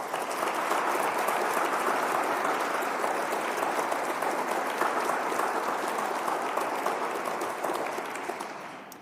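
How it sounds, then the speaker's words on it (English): An audience at a human trafficking countering awards ceremony applauds the award winners, with steady, dense clapping that fills the room at a constant level and fades slightly at the end. "Please give one more round of applause for all of the award winners."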